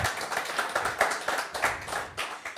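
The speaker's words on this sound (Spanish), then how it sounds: "dale un aplauso al Señor" Church congregation clapping in praise, a steady run of rhythmic handclaps from many people at moderate loudness, with no talk over it.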